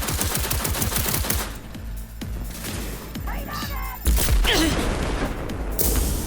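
Rapid gunfire bursts and explosions from combat in the video game Cyberpunk 2077, loud and dense, with several sustained volleys and a heavy boom partway through.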